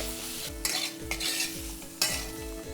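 Boiled potato pieces being sautéed in a pan, with a quiet sizzle under three sharp scrapes of a spatula stirring against the metal, close and fairly soft, no talking.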